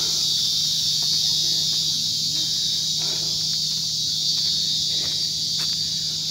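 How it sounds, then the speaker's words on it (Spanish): Steady, loud cicada drone along a rain-washed mountain path in Cartago, a continuous high shrill buzz that never lets up, with faint footsteps and small sounds underneath. "Un día de chicharras hoy."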